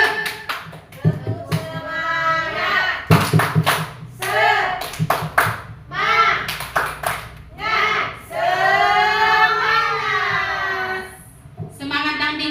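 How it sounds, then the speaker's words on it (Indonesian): A group of teachers at a school positive-culture session claps in rhythmic bursts for a tepuk semangat cheer, sharp unison claps alternating with loud chanted voices. "Tepuk semangat dulu kita."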